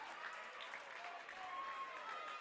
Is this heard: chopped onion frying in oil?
no